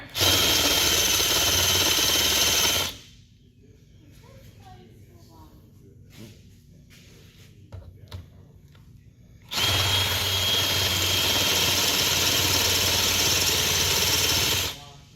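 Loud power drill boring into hard stainless steel on a boat's gooseneck at a marina, two long sustained high-pitched bursts separated by a quieter stretch with light handling clatter.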